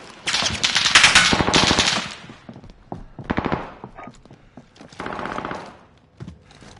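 Automatic gunfire in the video game Warzone comes in loud, close bursts of rapid shots, a long volley followed by shorter ones, with thuds between them and no talking.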